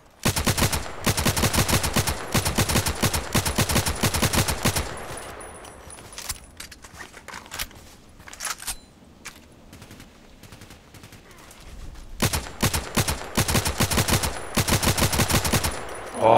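Rapid bursts of automatic gunfire in the shooter game Contract Wars, loud and dense, broken by a quieter stretch of scattered shots and movement before the firing resumes.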